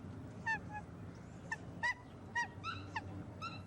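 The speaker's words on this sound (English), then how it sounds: "If Nene the goose could talk, she'd probably say, "It's cold"." A Hawaiian nene goose honks repeatedly in short, nasal calls, about eight honks in a loose irregular rhythm, fairly close, over a soft outdoor background hum.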